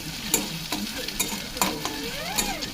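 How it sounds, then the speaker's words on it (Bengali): A fried egg is stirred into sizzling fried vegetables in a pan for egg chow mein, with a spatula scraping and clacking in about five short, distinct strokes over a steady sizzle. "ডিমটা মিক্স করে নিচ্ছি"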